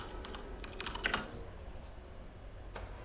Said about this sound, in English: We can hear your click-clack keyboard.